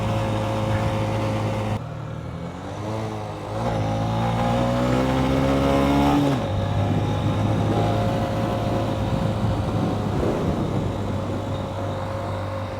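Honda CB125F motorcycle fitted with a 120cc fuel injector accelerates hard, the engine note climbing in pitch through a gear and then settling into a steady loud drone with wind noise, no talking.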